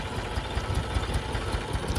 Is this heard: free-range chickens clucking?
no